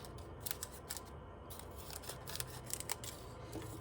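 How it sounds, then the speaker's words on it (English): Scissors snip the corners off a sheet of folded paper during a dragon craft, giving a few quiet crisp cuts against a soft indoor hush, with no voices. "Fold it in half, cut off the corners,"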